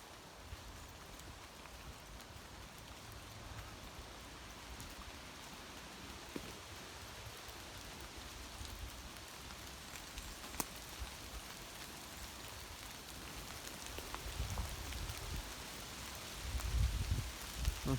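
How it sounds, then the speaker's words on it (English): Soft, steady rain pattering through woodland at Buncer Wood in Blackburn, a faint continuous hiss with occasional louder drips and some handling bumps near the end. "Due to it being a very rainy day."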